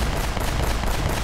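Dense, continuous gunfire in Uncharted: Drake's Fortune, a loud unbroken barrage of overlapping shots with no pauses and no talking.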